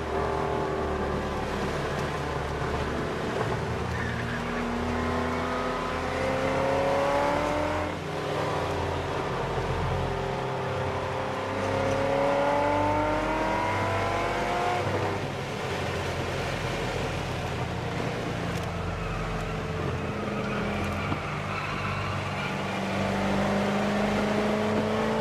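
A car drives a lap of a road racing track at Desert Center, California, its engine droning steadily from inside the cabin, rising and falling in pitch through repeated accelerations and gear changes with no talk.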